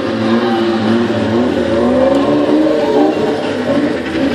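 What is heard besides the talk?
BMW E36 car driving on two wheels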